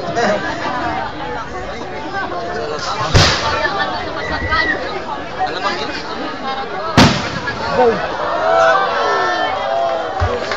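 Fireworks burst at a Cantilan fiesta, two sharp loud bangs standing out over a dense, noisy crowd with chatter and voices throughout.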